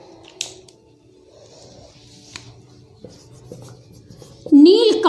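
Marker or chalk writing on a board, soft scratchy strokes in short bursts beneath a teacher's Hindi explanation during a grammar lesson, ending with louder speech.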